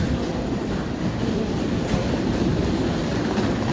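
A train at a railway station, a steady loud rumble of rolling railcars with faint wheel clatter, continuous and close, no voices.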